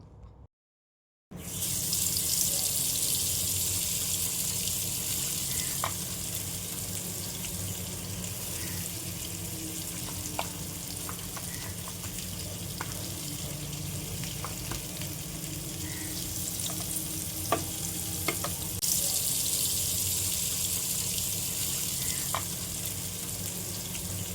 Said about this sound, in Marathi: कोकोनट ऑइलमध्ये ते मस्त कुरकुरीत दोन्ही बाजूने लाल रंगावरती फ्राय करून घ्यायचे